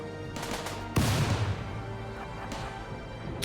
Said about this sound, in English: smoke launcher